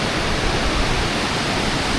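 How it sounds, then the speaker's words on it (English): A mountain stream waterfall roars close and constant, a thick, even wash of rushing water with no pauses. "here in the waterfall"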